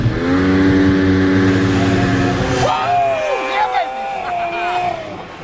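A snowmobile engine revs hard with rising and falling whine as it pulls away, loud and close, while someone talks over it.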